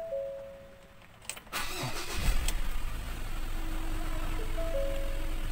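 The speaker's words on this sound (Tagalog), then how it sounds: "Bago tayo magsagawa ng pag-engine wash, atin muna siyang paandarin." A 2020 Ford Everest with automatic transmission in park cranks briefly and starts, its engine catching with a rising rev before settling into a steady, fairly loud idle heard up close.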